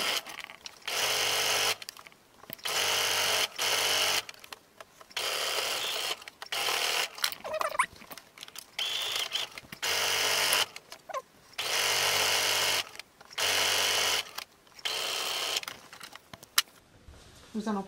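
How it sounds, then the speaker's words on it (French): A domestic sewing machine runs in repeated bursts of steady whirring, stopping and starting as it stitches a 1 cm side seam on a tote bag lining, with brief pauses between runs and no talk over it. "nous allons piquer 1 cm de couture avec un arrêt en haut"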